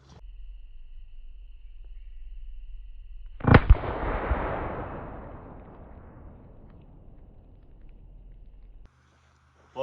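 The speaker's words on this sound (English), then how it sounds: "shooting at the shaving cream." A .30-30 rifle shot hits a shaving cream tin outdoors, a single sharp loud crack with a long rolling echo that fades over several seconds, over a low steady background hum.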